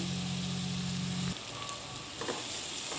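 Beans and mixed vegetables frying on high heat in a pan for a curry: a close, steady sizzle with a brief stirring scrape partway through.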